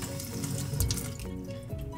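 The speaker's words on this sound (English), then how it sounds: "you're going to rinse your glasses under warm water" Warm water runs from a tap over a pair of glasses in a sink, a steady close splashing stream with brief shifts as the flow hits the lenses and frames.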